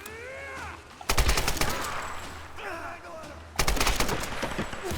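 Gunfire from the Tomb Raider video game, with sharp bursts of shots near the one-second mark and again near the four-second mark over a busy game soundscape. Shorter, fainter effects fall between the bursts.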